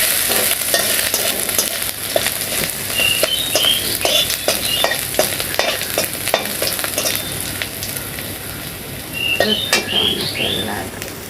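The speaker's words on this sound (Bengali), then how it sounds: "এই সামান্য একটু সেখানে একটু রসুন দিলাম" Garlic frying in a little oil in a pan, a steady close sizzle broken by frequent stirring scrapes and taps, with faint bird chirps in the background.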